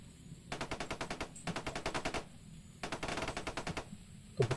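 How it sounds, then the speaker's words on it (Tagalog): Distant bursts of rapid automatic gunfire, several sustained volleys separated by brief pauses, faint and echoing. "Patay, may putok talaga."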